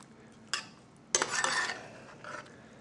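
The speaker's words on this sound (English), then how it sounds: "Put it in there and stir. That's right. Stir that up real good while we're going." Spicy tomatoes being stirred in a pot, with a few brief scraping and clinking strokes of a utensil against the metal, faint and close, with no one talking.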